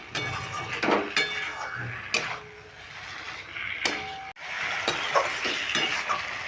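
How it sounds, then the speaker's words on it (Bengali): Ridge gourd being sautéed with spices in a pan, a steady sizzle broken by repeated scraping stirs and occasional clinks of a utensil against the metal, close and fairly loud throughout. "এবার ঝিঙেটা দিয়েও আমি দু মিনিট কষিয়ে নেব কোনো রকম ঢাকা এখন দেব না"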